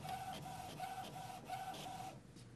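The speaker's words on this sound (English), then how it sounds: "The self-test page prints." An HP Officejet 6300 printer prints a self-test page, giving a quiet, rhythmic run of repeated mechanical whirring passes about every third of a second, then a softer settling noise at the end, with no talking.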